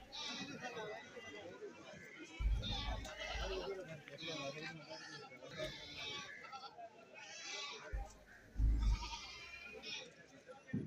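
Goats bleat intermittently at a Kerala goat market where sold animals of many sizes are penned, with bursts of calls over steady crowd chatter and people talking nearby.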